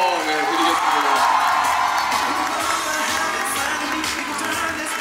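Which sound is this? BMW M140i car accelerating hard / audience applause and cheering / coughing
audience applause and cheering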